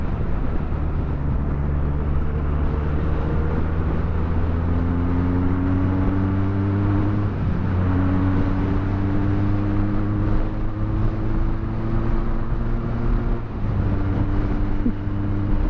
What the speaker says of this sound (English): Of course, Benelli is known for exhaust notes.